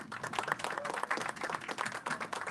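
Applause for the panelists at the close of a culture panel event at All Points East, a steady patter of clapping hands from a modest audience, moderately loud and continuous throughout.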